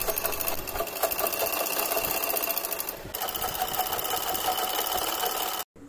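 Sewing machine stitching a sleeve onto a frock, a fast continuous mechanical whirr with a brief pause midway and a sudden stop at the end.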